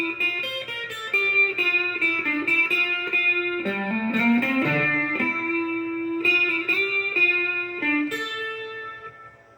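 An electric guitar run through distortion and effects plays a continuous run of single notes drawn from a scale pattern, with sustained, ringing tones and no accompaniment.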